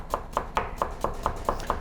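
A kitchen knife push-cuts food on a cutting board in a steady series of eight crisp taps, evenly spaced and close, with no talking.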